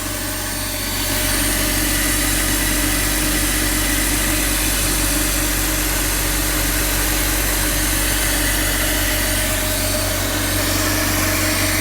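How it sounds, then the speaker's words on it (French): A BMW 530i E60 with the M54B30 inline-six, freshly repaired after top-end work on the Vanos, cylinder head, valves and timing, idles steadily and loudly with a smooth, constant hum that holds unchanged throughout, with no talk. "Ça, c'est ce que j'appelle un moteur qui tourne bien."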